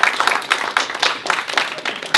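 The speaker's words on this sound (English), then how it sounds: "Can we get a round of applause for that?" Audience applause at a Toronto tech talk on uniting designers and developers: a short burst of many hands clapping together, steady and fairly close throughout, with no talking.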